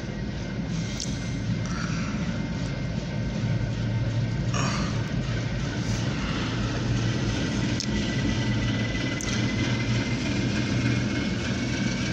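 A truck engine rumbles past near a railway line where an OC&T freight train hauled by Alco locomotives is expected. The steady low drone stays loud and continuous throughout, with no talk.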